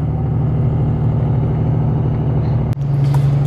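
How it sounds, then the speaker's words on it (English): Truck engine heard from inside a vehicle on a Canadian highway in British Columbia: a steady low, droning road and engine hum that holds constant, with a brief dip and a small bump near the end. "That truck up there's just chooching."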